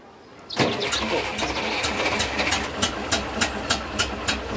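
Restored World War half-track engine cranks and catches, then runs roughly with an uneven idle and regular popping misfires, loud and close, with no talking over it.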